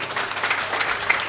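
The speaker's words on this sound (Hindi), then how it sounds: "पुरजोर तालियों से इस्तकबाल करें" An audience at a mushaira, an Urdu poetry gathering, applauds to welcome a poet, a brief burst of dense, even clapping from a sizable crowd heard at a moderate distance.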